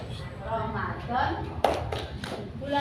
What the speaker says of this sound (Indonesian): Tepuk Ramadan itu prok 2 kali.